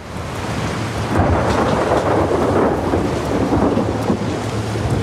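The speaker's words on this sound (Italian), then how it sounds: "questi FX del temporale sono qualcosa di perfetto" Thunderstorm effects from the video game The Last of Us Part II: a steady, loud wash of rain with deep rolling thunder swelling through the middle, and no voices.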